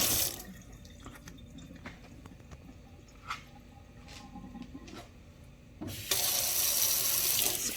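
Kitchen sink tap running as raw pork chops are washed, with light clatter and handling sounds under a steady stream that swells to a loud, full gush near the end.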